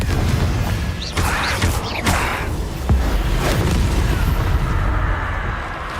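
A Confringo spell blast in the video game Hogwarts Legacy, a loud booming explosion with rumbling bursts and crackling debris that roll on for several seconds.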